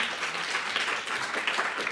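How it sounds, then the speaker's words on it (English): An audience at a university symposium presentation competition claps for the judges, a dense, steady patter of many hands with no voices heard. "Give them a round of applause."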